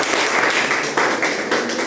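Church congregation applauding during a worship service, a steady dense wash of many hands clapping together, close and loud for a short burst.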